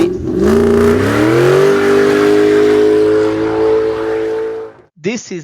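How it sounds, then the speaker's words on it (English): A car engine runs loud and steady as the vehicle moves, its drone climbing in pitch over the first second and then holding an even hum before cutting off, followed by a short burst of voice. "This is the engine noise of the car."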